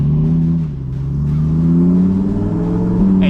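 An Audi R8 engine with a loud aftermarket exhaust pulls hard in a steady acceleration, its deep droning note rising gradually in pitch with a brief dip near the start, loud and close from inside the car.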